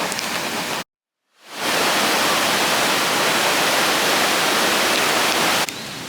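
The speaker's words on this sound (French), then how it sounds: "En plus, il y a des cascades juste à côté." Steady roar of waterfalls beside a shrine in Nikko, Japan, a loud continuous rushing broken by a brief silent gap near the start.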